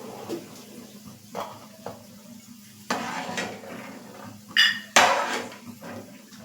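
Fried peanuts being scooped out of a hot pan, scattered scrapes and clinks of a metal spoon against the pan, with two louder knocks near the end over a quiet background.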